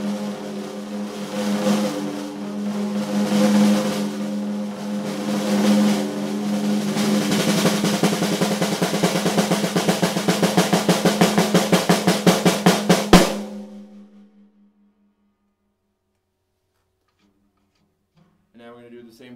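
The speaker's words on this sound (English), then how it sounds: "So this is the snare in medium tuning, kind of medium high. The muffler on the inside has been turned off." A vintage Rogers Big R Dynasonic 14x5 snare drum in medium-high tuning, its internal muffler off, is played with sticks. The strokes start spaced out, build into a dense roll of fast even hits, and then ring out into silence.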